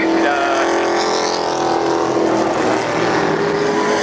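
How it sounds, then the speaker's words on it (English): Stock race cars lap Columbus Motor Speedway in practice, a steady layered engine drone with a high whine sweeping as cars pass at mid distance, continuous with no voices. "We're going to let these guys run around and get a couple laps in, get comfortable with the cars"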